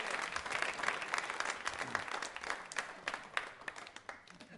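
Audience applause at a Diwali quiz show: many people clapping steadily for several seconds, fairly faint and roomy, with scattered sharper claps near the end as it thins out.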